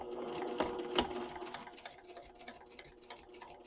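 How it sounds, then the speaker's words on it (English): A sewing machine back stitches over the seam ends of a knit tote bag, giving a faint, quick run of needle ticks and mechanical clicking close by. "when you get back to where you started, you're just going to back stitch over the ends and trim your threads"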